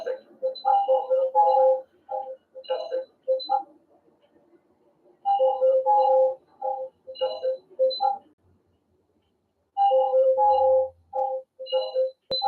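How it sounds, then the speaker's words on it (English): Repeated electronic beeps like cash register scanners come in irregular bursts, with quiet gaps between the clusters. "it kind of sounds like the cash machines at Walmart. Just like a bunch of beeping noises"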